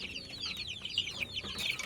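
Several chickens in a breeding pen cluck and chatter in quick, overlapping high calls, moderately close and steady throughout with no talking.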